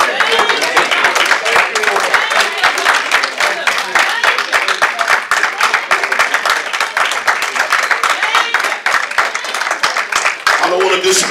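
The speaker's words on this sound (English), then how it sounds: "Now just clap your hands and tell the Lord thank you" A church congregation claps hands steadily and loudly for several seconds, a dense continuous patter of many palms with voices mixed in underneath.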